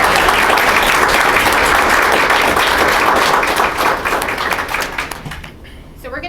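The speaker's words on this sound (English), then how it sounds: "So can we give a round of applause?" A room full of people applauds a nonprofit organization in a dense, steady burst of clapping that holds strong for several seconds, then thins and fades out.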